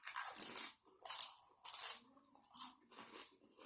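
Close, quiet crunchy chewing of chicken salad, several distinct crisp bites and munches in an uneven rhythm, with no talking.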